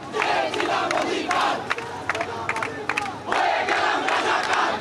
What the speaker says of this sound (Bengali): মধ্যরাতে ঢাকা বিশ্ববিদ্যালয়ের হলগুলোতে ক্ষোভে ফেটে পড়েন শিক্ষার্থীরা